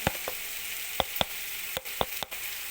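Ginger garlic paste hits roasted onions in a pan for an onion tomato curry, giving a steady close sizzle and frying hiss broken by sharp spoon clicks and taps as it is stirred.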